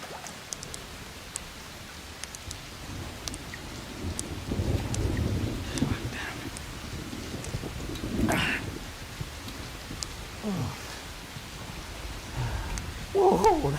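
Rain falls steadily through a dramatic film scene, broken by low thunder rumbles and a sharper crack near the middle, with faint distant voices toward the end.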